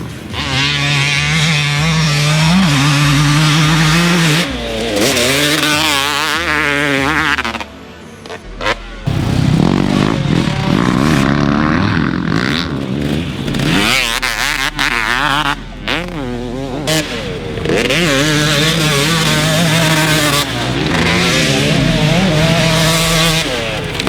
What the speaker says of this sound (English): my World Two-Stroke Championship KTM 300cc two-stroke